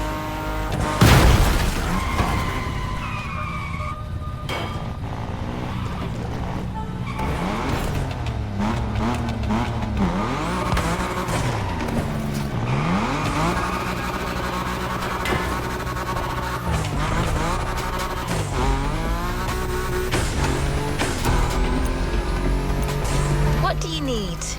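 A car drifting in The Crew Motorfest on a high course among wind turbines, the engine revving and whining up and down through long slides, with tire skids and booms, beneath ongoing talk.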